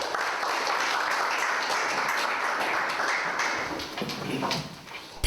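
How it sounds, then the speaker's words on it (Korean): Church congregation clapping to welcome a visiting pastor, a sustained patter of many hands that thins and becomes more scattered toward the end. "박수로 환영하겠습니다"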